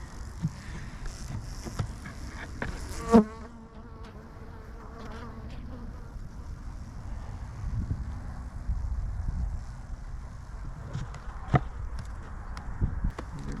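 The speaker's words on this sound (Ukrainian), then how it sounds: "От вся бджола сидить у нас впереді." Honeybees buzz softly and continuously around a hive, a gentle droning hum with faint outdoor wind in the background.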